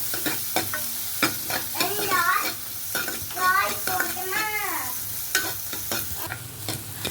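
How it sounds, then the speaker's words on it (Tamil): Onions and paneer fry in a pan with steady sizzling, while a spatula stirs and scrapes in repeated strokes that produce some squeaky, whining tones through the middle. "ஒரு பாக்கெட் பன்னீர் நல்லா ஃப்ரை ஆகுது ஆனியன் நல்லா ஃப்ரை ஆகணும்"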